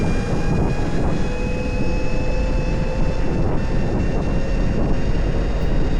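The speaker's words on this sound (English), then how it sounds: "This high-pitched noise for the mid-drive coming just makes it feel faster" A Krusade Monster Max mid-drive e-bike motor holds a steady high-pitched whine with faint overtones, loud and continuous over low rumbling road and wind noise, with no talk.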